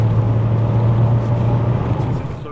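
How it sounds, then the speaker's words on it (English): Golf Mk2 GTI 16V with K-Jet injection and a bigger engine in a lighter car, driving in fifth gear: a steady low engine drone with airbox intake hiss, close and continuous. "I love that K-Jet sound of the airbox"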